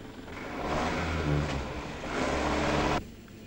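A car engine revs up and pulls away fast, a loud close roar that swells, dips briefly, then surges again before cutting off sharply.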